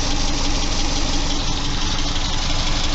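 The engine of a 2003 Subaru Forester runs at a steady idle, recorded up close with a loud, dense, even drone throughout and no talk.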